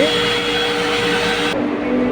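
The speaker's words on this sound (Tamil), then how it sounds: "ஸோ இது வந்துட்டு ஏதோ வேக்யூம் டாய்லெட் தான் ஏதோ சொன்னாங்க." A vacuum toilet aboard a Vande Bharat Express train on the Chennai–Coimbatore route flushes with a loud, close, rushing whoosh that suddenly drops to a softer hiss partway through.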